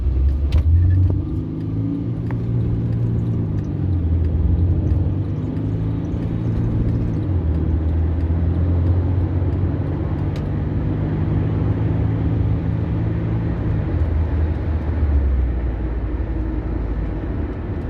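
Mercedes-Benz C220 CDI W204 diesel sedan launching hard from standstill to 100 km/h with wheel spin, its engine droning loud and close as low harmonics rise through each gear and drop at the upshifts, heard alone.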